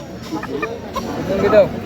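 Local free-range chickens at the Lauhati village market in Tangail, Bangladesh, giving a few short, close clucks, with people talking nearby.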